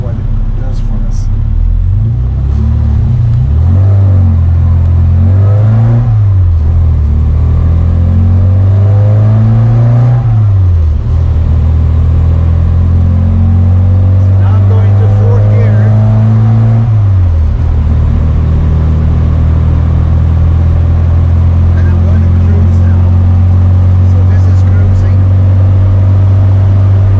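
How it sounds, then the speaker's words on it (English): A car with carburettors accelerates through the gears, its loud engine rising in pitch, dropping at each shift and rising again before settling into a steady drone, with brief talk over the start. "I'm going to accelerate through the gears, and then we'll see what it does for us."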